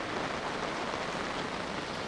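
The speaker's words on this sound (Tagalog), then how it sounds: "Nabutan na naman tayo ng ulan." Steady rain pours on a farm hut built in an eggplant field, a dense, even hiss of drops on the roof and ground filling the whole stretch without any voices.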